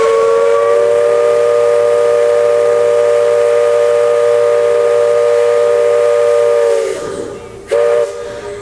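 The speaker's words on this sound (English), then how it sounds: "very soon, the captain is going to blow the whistle" Steam whistle on the Liberty Belle riverboat at Disney blows one long, loud, steady tone for about seven seconds, then cuts off, with a brief second short blast after it.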